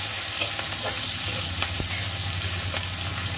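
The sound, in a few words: onion frying and being stirred in pan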